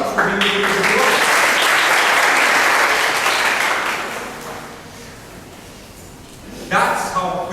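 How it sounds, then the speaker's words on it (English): An audience gives a round of applause at a talk. It is loud, dense clapping that fades gradually, and a voice speaks near the end. "Round of applause for Viraj for being able to do it."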